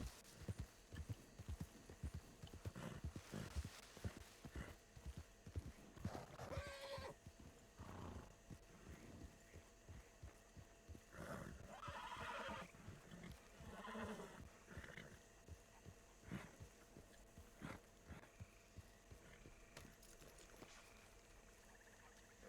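Horses in the video game Red Dead Redemption 2 (RedM roleplay), with clip-clopping hooves in an uneven rhythm and a few whinnies breaking through, faint and somewhat distant throughout.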